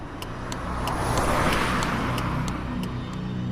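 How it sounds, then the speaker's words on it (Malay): A lorry drives past on a road, a broad rumbling engine and tyre roar that swells to a peak midway and then eases off, steady and fairly close, with no voices over it. "Sedang aku isap rokok tu, tiba-tiba ada satu lori lalu."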